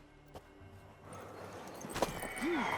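Horse hooves clip-clopping in The Witcher 3 video game, a few soft hoofbeats starting quietly then joined by a brief whinny-like call near the end over game ambience.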